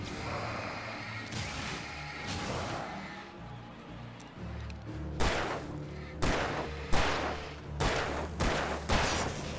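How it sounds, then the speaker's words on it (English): Gunshots in the video game Alan Wake Remastered land as a string of heavy, booming blasts, several loud reports spaced irregularly over a rumbling game backdrop. "Wasted a bullet."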